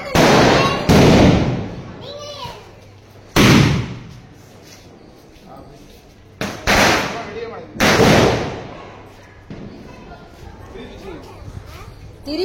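Diwali firecrackers burst with several sharp, loud bangs at irregular intervals, some close together, while people talk and laugh between the blasts.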